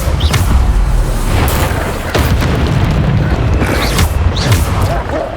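Bombarda and Depulso spell blasts in the Hogwarts Legacy video game, a series of loud booming impacts and bursts spaced a second or so apart over a rumbling background.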